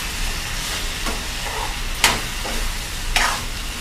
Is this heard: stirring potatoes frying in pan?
yes